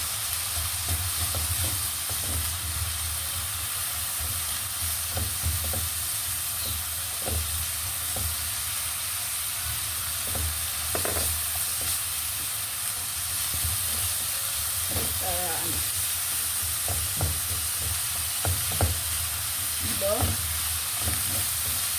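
Ground meat and onion sautéing in a pan for a ginisang giniling with eggplant, a steady close sizzle with occasional stirring scrapes and clinks running throughout, no talking.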